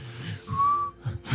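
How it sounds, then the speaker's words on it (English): A single whistle blows once, a thin steady tone lasting under half a second at moderate loudness over a background of wind and low rumble. "it was just the whistle"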